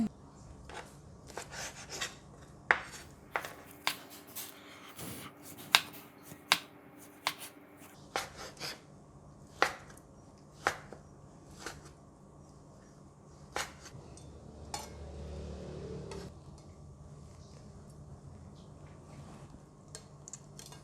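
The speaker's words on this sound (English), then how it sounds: "Now we can go and cut the meat." A knife slicing grilled pork shoulder on a board, a series of sharp, separate chopping taps at an uneven pace, close and fairly quiet, followed by a soft rustle, no talking.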